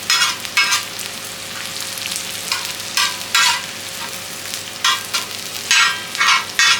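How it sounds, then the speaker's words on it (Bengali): Salted chopped onions and tomatoes fry in a pan for restaurant-style hakka noodles, with loud bursts of sizzling from repeated stirring strokes over a steady low background. "আর একটু ভাজলে হয়ে যাবে এটা।"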